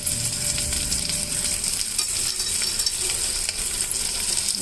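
Vegetables for a corn rava khichdi fry in a little oil and are stirred, giving a loud continuous sizzle with faint utensil clinks mixed in. No one speaks.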